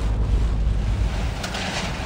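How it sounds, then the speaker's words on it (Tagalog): Strong wind roars and buffets the microphone in a loud, continuous rush, with the hiss of heavy rain mixed in, during a storm with near-zero visibility in Isabela. "halos zero visibility sa lakas ng buhos ng ulan at hampas ng hangin."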